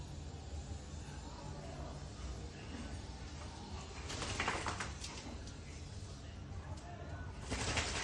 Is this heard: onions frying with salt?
no